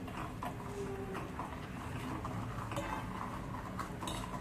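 A spoon stirs homemade dry-fruit basundi masala into thick basundi in a pot, giving a steady run of soft scrapes and light metallic clinks throughout.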